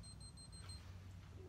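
An Orion 920 moisture meter alarm beeps in a rapid series of short, high, evenly spaced tones that stop partway through, faint over a low background hum in a solar kiln with walnut lumber.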